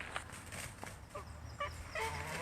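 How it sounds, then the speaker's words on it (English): Geese honking in short, repeated nasal calls, a few near and loud, others overlapping, in an outdoor park setting with a heron flying at them; no talk. "the geese were not impressed with the heron flying at them."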